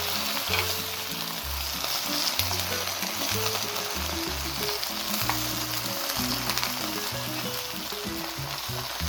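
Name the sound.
shishito peppers stir-frying in soy sauce and water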